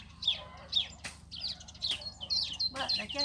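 Small birds sing outdoors in repeated bright chirps and short warbling phrases, several calls overlapping at moderate distance against a quiet rural background.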